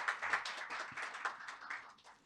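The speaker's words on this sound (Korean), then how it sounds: "큰 박수 부탁드립니다." Faint audience clapping at a medical policy symposium, in a few soft uneven bursts.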